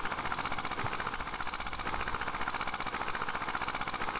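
A small Zetor HMT 2511 mini tractor engine in Farming Simulator 18 chugs rapidly and steadily, a rattling, knocking rhythm that holds a constant pace without pausing.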